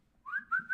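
A person whistles alone in three short rising notes, close and clear against near silence.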